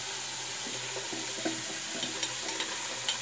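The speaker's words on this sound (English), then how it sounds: "I'm gonna let the water run" Tap water runs quietly into a bathroom sink while a razor blade is warmed before shaving, a soft steady trickle with a few small clinks and knocks.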